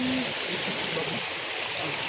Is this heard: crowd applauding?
no